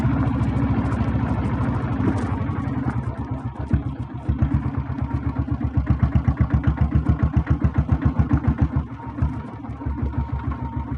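A diesel Royal Enfield Bullet motorcycle runs close by, its engine thumping in a steady, rapid, loud beat that holds for several seconds with slight rises in pace and no voices over it.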